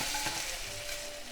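Meat sizzles in hot sesame oil in a frying pan for Korean bibimbap, a steady close crackle and hiss with a faint scrape of stirring.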